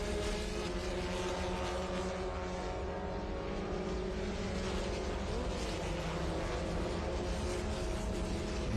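A vintage red Swift DB2 race car roars past at Indianapolis Motor Speedway, a loud, steady, dense engine drone that fills the whole stretch with no talk over it.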